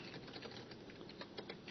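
Rapid typing on a computer keyboard during an OpenGL programming session, soft irregular key clicks pattering continuously at a steady close distance with no talk.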